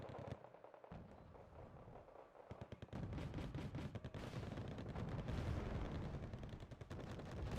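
Artillery fire support in a Wargame battle between paratroopers and tanks: a rapid, dense series of loud booms and impacts builds into a continuous roaring barrage, growing heavier after the first few seconds with no talk over it.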